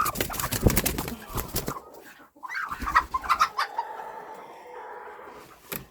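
Bantam broody hens cluck steadily at close range in a summer poultry setting, soft repeated clucks with a few sharper calls, with no talking.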